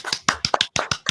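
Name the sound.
applause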